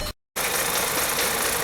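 A 2012 VW CC engine with a cam timing problem idles roughly and misfires constantly, a loud, steady mechanical drone with a shaky, uneven texture, briefly cut to silence near the start before resuming.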